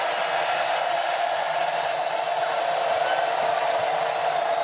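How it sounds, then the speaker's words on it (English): A steady roar rises from a women's college basketball crowd at a Baylor vs TCU game as Baylor goes on a run, loud and unbroken throughout. "this crowd is going wild"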